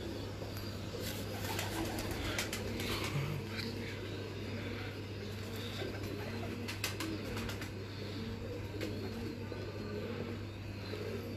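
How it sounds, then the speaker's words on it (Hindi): Pigeons belonging to a pigeon-flying master, heard outdoors as a steady wash of bird sound with soft cooing, some scattered chirps and faint distant traffic, continuous and fairly low in level. "आपको पसंद आ रहे होंगे कबूतर"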